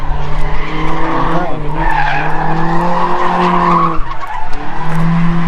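A car drifts at a drift session in Guam, its tires skidding and squealing loudly and continuously over a roaring engine, with people talking nearby.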